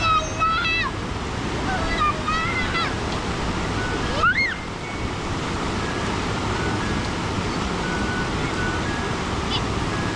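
Broad, continuous rushing of the Lubuk Minturun river flowing in a new channel after a major flood, loud and steady throughout, with brief voices and a short whistle-like tone early on.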